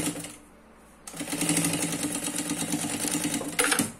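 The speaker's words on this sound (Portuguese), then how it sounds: "Vai costurar frente com frente." A sewing machine runs continuously, stitching a zipper face to face with white polyamide thread, steady and close, after a brief quiet start, with a short louder burst near the end.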